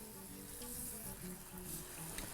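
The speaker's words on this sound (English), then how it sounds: "proceed to add that to your oil" Battered fish frying in hot oil, a soft, continuous crackling sizzle with faint bubbling pops, quiet and steady throughout without speech.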